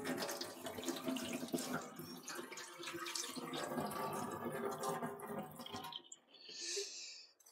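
Water running steadily from a newly fitted tap, a close, continuous splashing rush for about six seconds before it cuts off, then a brief softer trickle.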